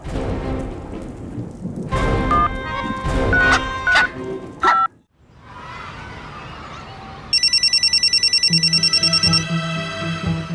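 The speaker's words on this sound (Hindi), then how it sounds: "अरे ये किसका फोन आया?" A phone rings in a rapid trilling burst near the end, after a stretch of steady rain and rumbling noise.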